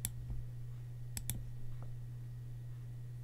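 Sharp mouse clicks as anchor points are set with the Photoshop Pen Tool: one near the start, then a quick close pair around the middle, over a steady low electrical hum.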